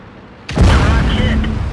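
An artillery shell hits a tank in World of Tanks: one abrupt, heavy, close boom strikes after a quiet lead-in, followed by a ringing, rumbling decay.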